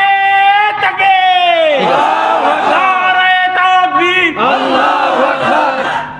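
A large crowd at a late-night religious gathering in Bogura roars the takbir chant in loud, sustained unison, voices swelling and overlapping in repeated waves.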